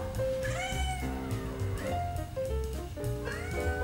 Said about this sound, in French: Je suis en train de me faire engueuler par mon chat.